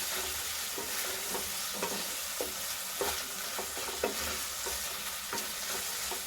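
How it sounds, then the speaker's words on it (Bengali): Egg curry masala with chili paste stirred in a pan: a steady low sizzle of frying runs throughout, broken by repeated short scraping knocks of a spoon against the pan at an uneven rhythm, close and moderately loud, with no voices. "আমি একটুখানি ঝালের জন্য লঙ্কা বাটাটা দিলাম। সব কিছু দিয়ে নিয়ে নাড়াবো।"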